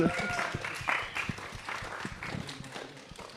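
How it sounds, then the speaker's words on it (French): Audience applause at the Aérolive touring festival in Écretteville, Normandy, as performers take their places: a dense, moderately loud patter of clapping with a few brighter tones and voices mixed in. "on peut d'ailleurs les applaudir le temps qu'ils s'installent"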